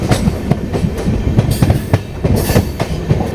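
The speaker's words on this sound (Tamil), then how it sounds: "ஆப்போசிட்டில் வரது பார்த்தீங்கன்னா நமக்கு வந்து சென்னையிலேருந்து பெங்களூர் போகக்கூடிய டபுள் டெக்கர் வந்துட்டு இருக்குங்க" A double-decker train on the Chennai–Bangalore run approaches on the opposite track, loud and close, with a rhythmic clickety-clack of wheels over rail joints and a steady rumble.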